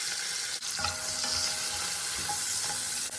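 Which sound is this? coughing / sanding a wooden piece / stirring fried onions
stirring fried onions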